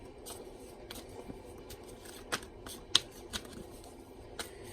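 Soft papery shuffling of tarot cards with a few sharper flicks and taps scattered through, fairly quiet and close, with no voices.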